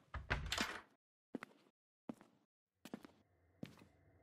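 A door shutting in the horror video game Crimson Snow, a burst of rustling then a few sharp separate thuds and knocks, faint and spaced apart, with a low hum entering near the end.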